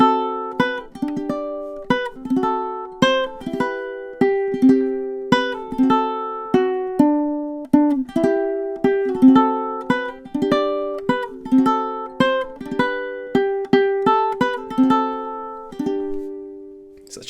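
Ukulele picking the Christmas melody 'I Saw Three Ships', a steady stream of bright plucked notes with quick chord changes, close and clear with no voices.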